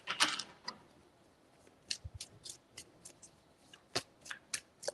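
Tarot cards are shuffled in short, crisp bursts of riffling and slapping, spaced unevenly over several seconds at close range with quiet gaps between them.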